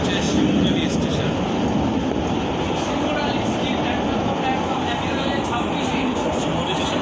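An AC EMU special local train runs through Shimurali station without stopping on a rainy day, giving a constant loud rumble and rush of wheels on track from inside the moving train for the whole stretch.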